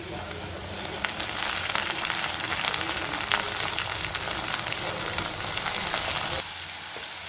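Soaked moong dal and chana dal fry with onion in a hot pan, giving a loud, steady sizzle and crackle with occasional stirring that softens near the end. A voice talks over it.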